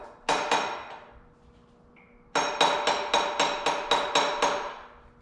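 Sharp hammer taps on the connecting rods of a disassembled Ford 302 small-block V8: one or two strikes, a pause, then a steady run of about eight loud, ringing metallic blows at close range.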